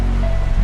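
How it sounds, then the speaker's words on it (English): A small, full mountain stream on a lakeside trail rushes steadily and close, a loud, even wash of water with no voices. "We're kind of surprised how much water is still flowing"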